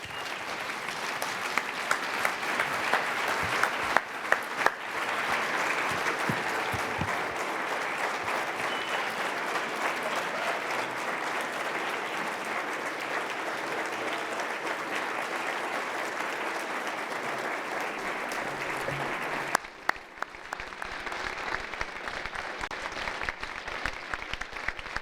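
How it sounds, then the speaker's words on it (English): Sustained audience applause fills a live university event hall, a dense steady wash of clapping that runs at full strength for about twenty seconds before thinning and dropping away, then resumes briefly near the end. "thank you for that additional round of applause"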